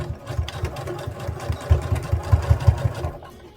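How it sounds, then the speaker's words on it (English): Sewing machine stitching fabric along a quarter-inch foot with a back-stitch, a rapid uneven mechanical chatter of needle strokes that carries on for a few seconds before easing off. "I'm lining it up with the edge of the 1/4 inch foot, and you're going to back stitch."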